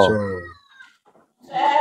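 Goats or sheep bleat in a livestock pen in Sidoarjo, one harmonic bleat that fades out, then a brief louder noisy burst at the end.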